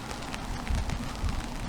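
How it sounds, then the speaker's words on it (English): Rain falling on a Berlin street, a steady broadband patter with a few louder drop-like thumps, close and continuous with no voices. "I like the sound of the rain."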